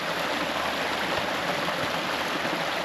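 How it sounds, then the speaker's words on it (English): Irrigation water rushes steadily through a field pipe near sandbagged gates, a loud continuous broadband roar with no pauses and no voices. "you see we got a lot of water flowing right now."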